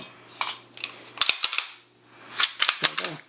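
A Sig P229 Elite compact pistol is handled close up as it is checked to be empty, with sharp metallic clicks and slide racks in two quick bursts.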